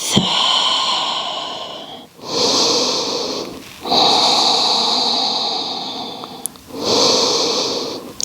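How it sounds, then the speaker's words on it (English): Slow, deep breaths during a yoga class, close and steady, with long drawn inhales and exhales repeating in a regular cycle of about two seconds each. "Breathe."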